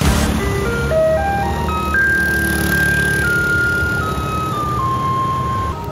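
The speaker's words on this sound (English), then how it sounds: "I thought it was an ice cream truck. Turns out it's just a garbage truck." Garbage truck on a street in Taiwan playing a simple electronic melody, clear tones stepping up and down in a slow tune over the low rumble of traffic.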